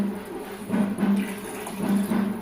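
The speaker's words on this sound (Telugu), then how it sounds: "నేను ఆల్రెడీ కొలతేసి పెట్టుకున్న రైస్ వాటర్ని ఇందులో పోస్తున్నాను." Measured water is poured from close by into rice in a cooking pot, a steady rushing splash that swells and eases in two longer surges.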